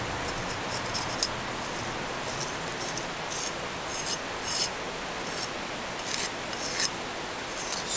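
A knife scraping leather-hard clay on a thrown pottery piece, cleaning the seat where a lid rests on the gallery: steady close raspy scraping in repeated short strokes, no talking.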